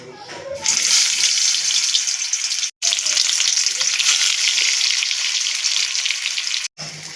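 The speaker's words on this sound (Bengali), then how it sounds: "ভালো করে পুর দিয়ে সব কটাকে তেলে ভেজে নেব।" Stuffed pointed gourd (potol) frying in oil sizzles loudly and steadily close up, with two brief dropouts where the sound cuts out.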